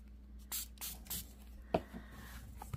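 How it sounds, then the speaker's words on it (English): A spray bottle spritzes onto a craft project in three quick soft bursts, close and quiet, followed by light handling taps. "Now I'm gonna spritz this in."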